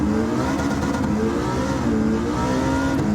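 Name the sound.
V8 muscle car engine accelerating in Gran Turismo 7 video game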